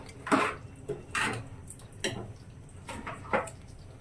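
A spoon stirs gongura mutton curry in a metal pot, making about six short scraping clinks at an uneven, unhurried pace, close and moderately loud with no speech.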